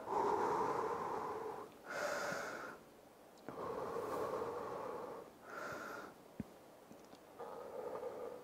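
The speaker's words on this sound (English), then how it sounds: "So we're going to get into breathing again now." During a home workout session, heavy rhythmic breathing comes in long, loud breathy exhales and inhales, several cycles with brief pauses between, close to the microphone and without talk.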